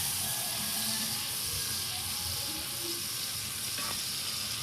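Margarine frying in a pan for butter chicken gives a steady, dense sizzle that fills the whole stretch at an even level, close by with no voices.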